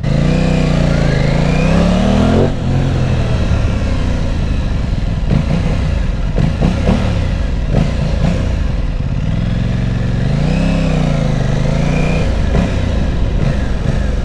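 An Aprilia Tuono 660 motorcycle circles a car park, its engine droning steadily and rising and falling in pitch as it revs and passes, loud and alone throughout.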